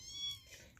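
A cat meows once at moderate distance in a market setting, a short tonal call over low background bustle, with no talking.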